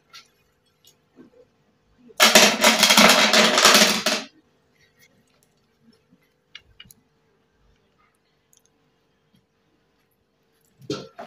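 Stones are placed gently into a home aquarium during cleaning. A loud two-second burst of rattling clatter is followed by sparse faint clicks and taps, with another brief knock near the end.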